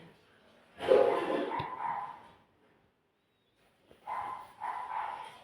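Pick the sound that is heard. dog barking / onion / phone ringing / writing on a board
dog barking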